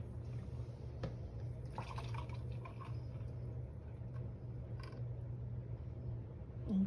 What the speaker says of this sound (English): gonna measure 1 cup of coconut milk.